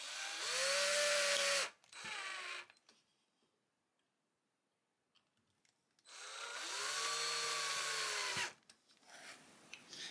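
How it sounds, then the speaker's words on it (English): Power drill boring holes through a metal license plate on a guitar headstock, two loud sustained bursts of whining drilling separated by a pause, close up and alone. "We'll drill those out the way we did these and get this pinned down."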